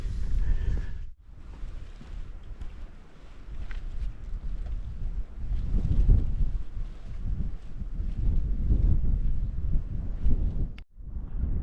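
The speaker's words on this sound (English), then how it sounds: "It's quite windy up here." Strong wind buffets the microphone on a hilltop during a countryside walk near Tissington and Parwich, a loud, rumbling low roar that surges and eases with two brief sharp dropouts.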